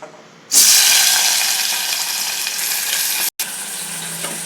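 Mutton hits hot oil in a pan and bursts into a loud, steady sizzle that carries on with a brief break near the end, likely from stirring, while the spitting oil stays close and dominant throughout.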